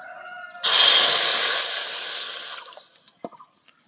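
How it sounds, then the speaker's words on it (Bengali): Water poured into a hot kadai on a lit stove gives a sudden loud hiss and sizzle that rises sharply, holds for about two seconds, then fades, followed by a few light clinks. "এবার আমটা সেদ্ধ করার জন্য কড়ার মধ্যে অল্প করে জল দিয়ে দিচ্ছি"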